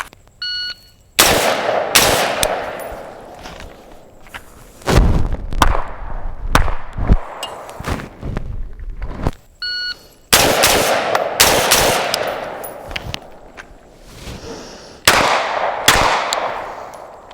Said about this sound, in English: I haven't shot this pistol yet today, and we're going to give that a try.